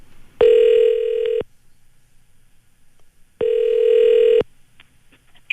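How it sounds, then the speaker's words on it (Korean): Telephone ringback tone while a radio host places a call to a listener, two loud one-second electronic rings separated by a two-second gap, heard alone. "오늘 문자 주신 분들 중에서 한 분께 전화를 한번 시도해 볼게요."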